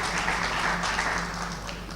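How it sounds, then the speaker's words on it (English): An audience at a summit opening applauds the minister, a steady wash of clapping from many hands sustained throughout, moderately loud and without talk. "A big round of applause to"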